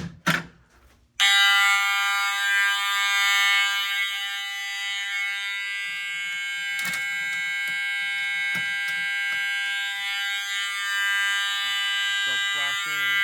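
Once the 278B pull station is pulled, a fire alarm sounds in a steady, loud, continuous electronic tone that fills the room, with faint clicks and handling noises beneath it.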